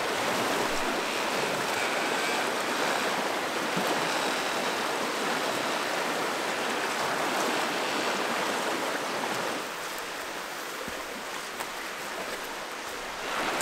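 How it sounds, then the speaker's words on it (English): A water wheel turns in a flowing stream at a bushcraft campsite, with a steady broadband rush and splash of water that continues throughout and eases slightly toward the end. No one speaks. "And the water wheel is still spinning."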